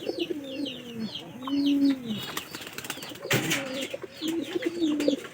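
Pigeons in a loft give deep, repeated coos, with bursts of wing flapping in between and some faint chirps, all close and fairly clear.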